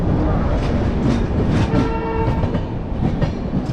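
The TN Sampark Kranti Express rumbles along steadily after leaving Jhansi station, heard from inside the train as loud continuous rolling noise with faint clickety-clack beats and no talking.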